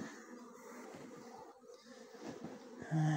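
Honeybees hum steadily around feeders at a hive during supplemental feeding, a continuous close, fairly soft buzz with no voices.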